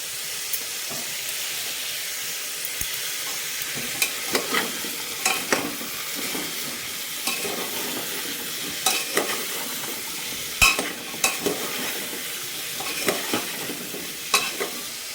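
Winter vegetables fried and stirred in a pan with a little pav bhaji masala, a steady sizzling hiss broken by scattered scraping clicks of the spoon, close and with no talk.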